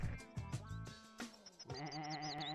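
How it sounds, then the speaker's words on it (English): Cartoonish sheep bleats from the video game Sheep Raider, repeated in short nasal cries over busy game music and effects, fairly clear and up front. "The sheep isn't very smart."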